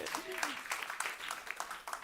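An audience applauds with a dense patter of clapping hands, steady and moderately loud, with a voice briefly audible at the start.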